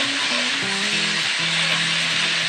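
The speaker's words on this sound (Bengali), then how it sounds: "আমি কিন্তু একবারে দুটোই ভেজে নিচ্ছি" Potato pieces and drumsticks fry together in hot oil, giving a loud, dense, unbroken close-up sizzle with a faint low tonal hum underneath and no voices.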